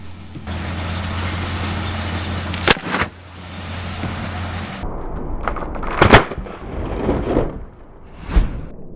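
Winch cables snapping under heavy load: a sharp loud crack near three seconds, then another burst around six seconds and a later bang, over heavy machinery rumble that drops away midway.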